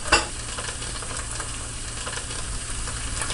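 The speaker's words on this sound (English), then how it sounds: "We hear the sizzle once again." Ground beef and hot Italian sausage sizzle loudly in a pot on the stove, a continuous crackling fry with a brief clatter of stirring at the start.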